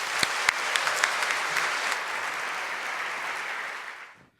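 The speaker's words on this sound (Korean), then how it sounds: "환호의 박수 부탁드리겠습니다." A crowd at a Reformed Christian speech contest gives a warm, sustained round of applause that holds steady and then drops away quickly, with a few louder claps standing out near the start.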